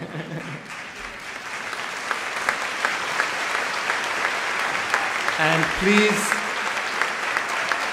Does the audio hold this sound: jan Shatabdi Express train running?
no